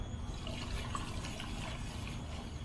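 A homemade starter of Bavarian lager yeast is poured into cooled home-brewed wort below 100 degrees, giving a soft, steady liquid trickle and splash that holds at an even level for a few seconds.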